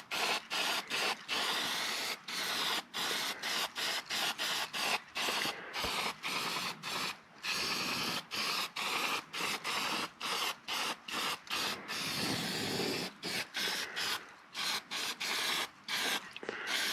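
Spray primer hisses onto a military vehicle part being repainted olive drab, in a long run of close, loud bursts broken by brief gaps, with no talking.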